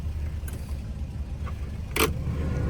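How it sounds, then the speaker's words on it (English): A 1971 Chevrolet Monte Carlo with its numbers-matching 350 V8 runs at a steady, low rumbling idle, close by, with a brief sharp click near the end and no talking. "We're gonna start up our 71 Monte Carlo."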